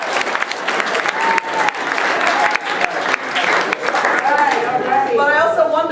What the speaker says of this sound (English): Clap for responsible adults who can get along.